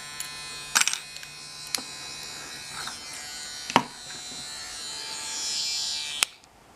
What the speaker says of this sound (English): the simplest little electric toothbrush pick to make